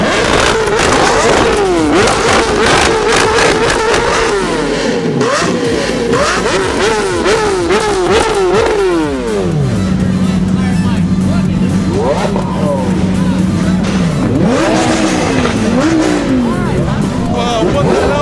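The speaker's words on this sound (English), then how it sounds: "Let's start the engines." Car 458 and other loud cars start and rev at a poker run, engines repeatedly climbing and falling in pitch, some revs settling into a steady idle, all close and loud with voices mixed in.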